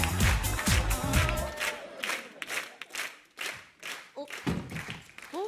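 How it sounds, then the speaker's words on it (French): A studio audience on a French TV game show claps and cheers as the next contestant is welcomed, bursts of applause mixed with shouts and voices, loud and close, rising and falling in waves. "Applaudissements."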